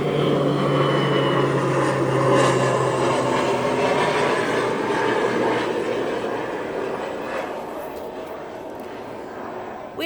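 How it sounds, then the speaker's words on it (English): A steady, loud roar of an airplane passing overhead fills the whole stretch, slowly fading toward the end, with no talking over it. "And we'll wait for this airplane."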